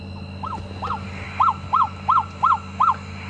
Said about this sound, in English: Another one of my favorite calls is the freckled nightjar.